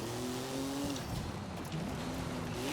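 Forza Horizon 5 car engine held near 2,000 rpm on the brake for a wheelie launch, a steady buzzing drone with pitch dipping and climbing as the revs shift, loud and continuous with no talking.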